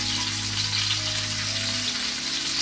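Chicken cordon bleu sizzling as it fries in a pan, a steady close crackling hiss that holds even and loud throughout.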